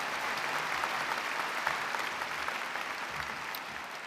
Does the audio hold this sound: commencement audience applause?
yes